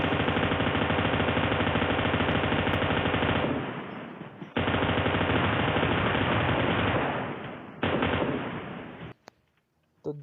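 Sustained machine gun fire from the mobile shooter PUBG Lite, with long rapid automatic bursts, two brief pauses between them, and a short quiet tail at the end, loud and close with no talking.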